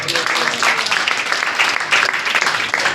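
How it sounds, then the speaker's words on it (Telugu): A church congregation claps together after a sermon, a dense, steady burst of many hands that fills the short moment without letting up. "ఒకసారి చప్పట్లు కొట్టండి"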